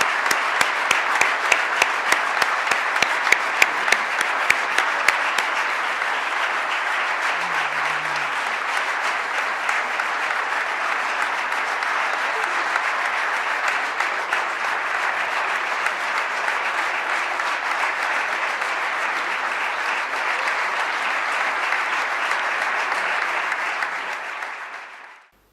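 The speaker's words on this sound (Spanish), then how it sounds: "quiero que su aplauso hoy sea para él" Sustained audience applause at an academic ceremony, a dense, even wash of clapping from a large crowd lasting over twenty seconds before fading out at the end.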